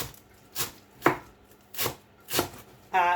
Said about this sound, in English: And so just chop them finely.